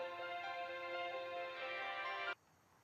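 A phone ringtone rings steadily at close range for over two seconds in a Hindi drama scene, then cuts off abruptly into quiet room tone.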